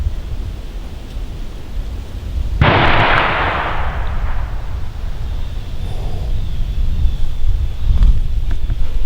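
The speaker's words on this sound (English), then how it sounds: "Someone just shot." A single distant muzzleloader-season gunshot booms through public-land woods, a sharp report with a rolling echo that fades over a couple of seconds against steady wind noise.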